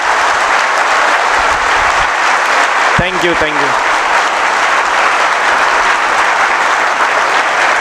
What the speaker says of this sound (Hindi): एक बार अपने मम्मी पापा के लिए और भैया के लिए एक बार जोरदार ताली हो जाए।